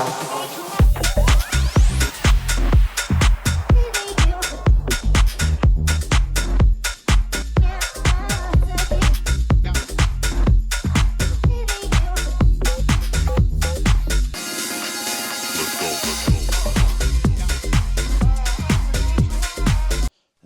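A DJ transition between house tracks: dense house music with a thumping four-on-the-floor beat as one track blends into another; the low end drops out briefly near the end before the groove returns.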